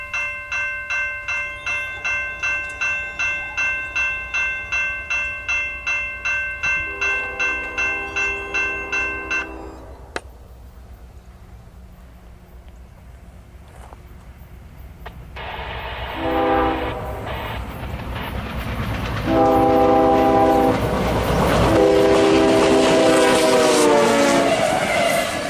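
A fast CSX intermodal freight train on a bitter cold afternoon at a rural Indiana grade crossing: long, loud horn blasts in a pulsing sequence, a brief lull, then the roaring, rattling rush of the train passing close by.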